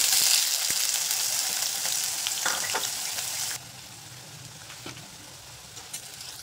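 Potato pieces fry in hot oil for veg dum biryani, a loud, close, dense sizzle that drops to a quieter steady crackle partway through, with a few faint knocks and no voices.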